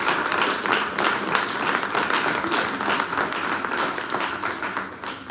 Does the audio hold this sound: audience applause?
yes